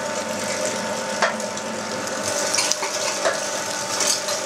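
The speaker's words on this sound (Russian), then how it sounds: "Сейчас я это сальце перекручу." A Gastromix MG 12 electric meat grinder runs with a 6 mm plate while mincing pork fat, producing a steady close mechanical hum with a grinding, ratcheting texture and occasional small clicks, with no speech.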